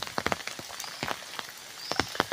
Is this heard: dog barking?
no